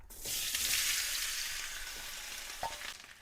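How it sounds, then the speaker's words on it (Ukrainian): Sliced potatoes fry in hot pork fat with a steady, bright sizzle and crackle, close by, with a faint stir or scrape near the end. "Коли сало підсмажилось, додаю сюди порізану картоплю"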